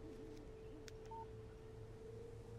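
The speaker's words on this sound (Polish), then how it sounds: "O, telefon." A telephone in the video game Alan Wake gives a short electronic beep over a low steady hum, quiet and isolated, with no talk.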